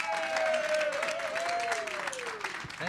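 Audience applause on a polka music show, a steady wash of clapping with a sustained musical tone gliding underneath, fading slightly toward the end.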